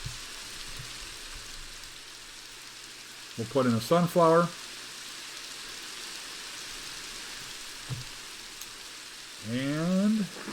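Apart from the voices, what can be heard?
rain in the video game Minecraft (Slimefun plugin)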